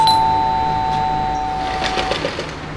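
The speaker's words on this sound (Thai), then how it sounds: "งั้นเดี๋ยวลองกดออดดูก่อน" A doorbell pressed at a house, giving a loud, sustained electronic tone that rings clearly and slowly fades, with a few soft clicks and taps near the end.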